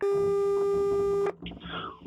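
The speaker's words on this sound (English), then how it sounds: "Please leave your message after the beep." A steady, loud electronic beep holds for over a second, then cuts off as a voice starts talking over a bit of background noise.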